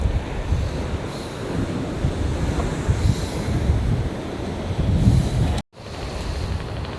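Big sea waves crash onto the rocks at Colachal beach, a steady loud roar of surf with wind buffeting the microphone, swelling near the end before a brief cutout.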